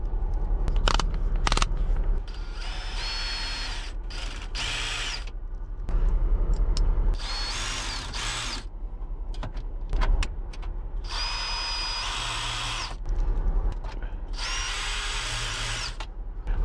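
Electric drill driving screws into a plastic car radio housing, several separate whirring bursts of a few seconds each with quiet pauses between, close and clear.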